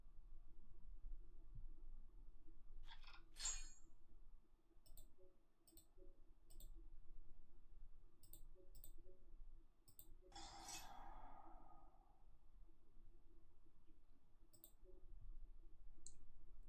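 A computer mouse is clicked during a deck-based video game match: sharp, close clicks come singly and in quick bursts, with quiet gaps between them and a soft swishing game effect in the middle.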